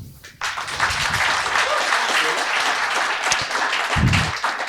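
Audience applause at a 2000 AD comics convention panel at Thought Bubble 2018, a dense, steady wash of clapping that swells in after a brief quiet start and holds loud throughout, with a few voices briefly audible under it.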